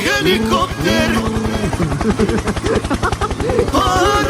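Rapid, regular thudding of helicopter rotor blades close by, loud and steady, with voices speaking over it at the start and end.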